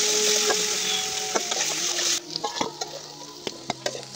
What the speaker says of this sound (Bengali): দিয়ে হালকা পাতলা নাড়াচাড়া করে আলুগুলোকে ভেজে নিচ্ছি।